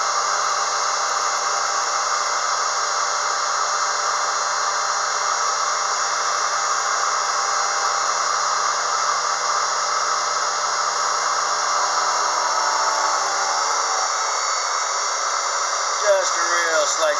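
A Unimat SL-1000 lathe cuts hot rolled steel with a steady, loud, high motor whine and a tonal hum that holds throughout. The pitch shifts slightly near the end, where a brief squeal is heard.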